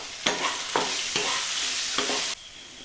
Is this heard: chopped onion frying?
yes